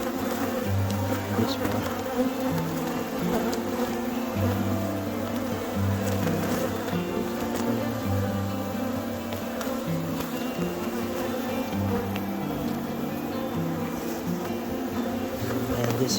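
Honey bees buzz steadily in a dense, loud drone throughout an overwintered hive inspection after a split, with a man's brief remark over it.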